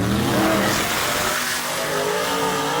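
A Pro Charged Chevy II drag car races down the lane in a drag race, its engine roaring loud and close as it accelerates, with a steady broadband racing roar throughout.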